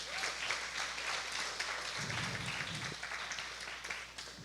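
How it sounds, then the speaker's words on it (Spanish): A church congregation claps in a sustained round of applause, a dense wash of many hands that holds steady and fairly distant, with a brief low murmur of voices midway. "denle un aplauso al Señor"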